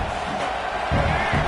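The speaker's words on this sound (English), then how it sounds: "This crowd bringing the energy and noise early." A dense, loud football stadium crowd roars and cheers at a Texas A&M versus Penn State game, with a swell of noise near the end.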